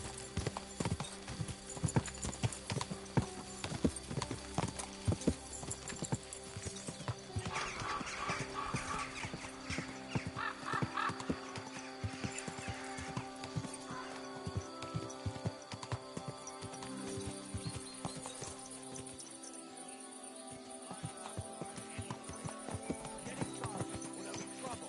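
Steady clip-clop of hooves galloping throughout in Kingdom Come: Deliverance II, with an occasional horse whinny and some game noise layered over it.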